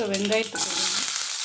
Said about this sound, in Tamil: இப்போ வானலியில் எண்ணெய் ஊற்றி வச்சு உப்பு கடுகு நம்ம போடலாம்